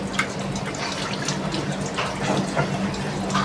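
Tap water runs steadily into a badly fitted sink and splashes out over the edge, a continuous close hiss and patter with no talk.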